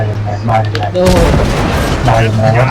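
An Obj.705A tank cannon in a video game fires one loud, booming shot midway, followed by a rumbling decay under continuing game noise.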